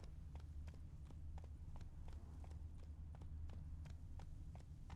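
Hooves of Roach, a horse in the Witcher 3 video game, clop in a steady rhythmic gait over a low continuous rumble, each strike sharp and evenly spaced, with no voices.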